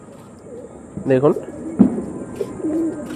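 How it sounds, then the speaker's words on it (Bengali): Pigeons of Andhra and Chennai breeds cooing at a bird market, one soft coo under someone talking, with a low background hum. "নীলদমা পায়রা, একদম ডিপ চোখের পায়রা আছে"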